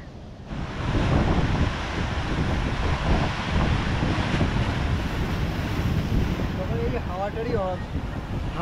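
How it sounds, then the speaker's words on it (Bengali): Wind gusts and sea waves break on the beach at Tajpur, a constant loud rush of surf with heavy wind noise on the microphone, and faint voices surface near the end. "হাওয়া যত দেবে ঢেউ তত মারবে"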